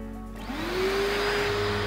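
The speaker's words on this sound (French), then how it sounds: "Donc voilà, je vais démarrer l'aspirateur." A vacuum cleaner for ponds and natural pools starts up: a faint click, then a motor whine that climbs in pitch and settles into a steady, loud hum.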